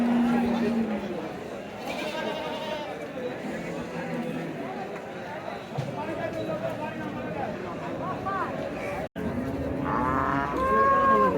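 Cattle moo repeatedly at a Qurbani cattle market, long low calls rising over a steady din, with people talking close by throughout.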